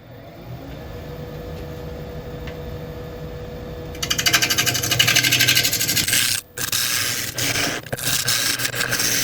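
A woodturning tool is sharpened before turning a redwood bowl, a steady abrasive grinding hum that starts loud partway through, with a brief cut-out and rough scraping texture continuing close by.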